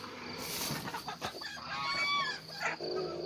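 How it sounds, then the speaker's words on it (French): Laying hens cluck and squawk nearby in short, overlapping bursts, with one longer rising call; a lively farmyard chatter with no speech. "les poules pondeuses qui sont là"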